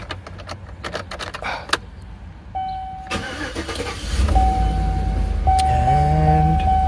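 Chevrolet Suburban with a new fuel pump control module, key clicks and chimes, then the starter cranks briefly before the engine catches and settles into a steady close idle.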